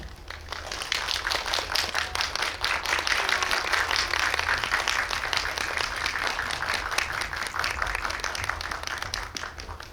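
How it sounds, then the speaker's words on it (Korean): An audience at a Megabox COEX cinema guest visit gives warm, sustained applause as the Hallan film team walks on stage, dense clapping building after a moment and continuing steadily throughout. "입장할 때 뜨거운 박수로 환영해 주시면 감사하겠습니다"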